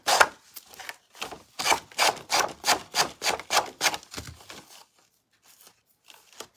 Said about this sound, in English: there are a couple of spots on here that as I was sanding were